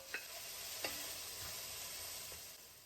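Onion fries in a pan with a constant soft sizzle and a couple of faint clinks from stirring, heard close but quiet, with no voices.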